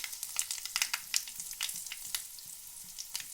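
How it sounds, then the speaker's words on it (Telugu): Dried red chillies, cumin and asafoetida tempering in hot oil, crackling in sharp, rapid pops and spits over a quiet sizzle, close up and without speech. "పోపు అయితే ఇలాగ వేగిపోయిందండి"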